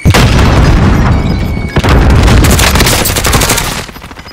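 A video game firefight: a grenade explosion and heavy, continuous gunfire fill the whole stretch, loud and dense, with a deep boom partway through and a sudden drop at the end.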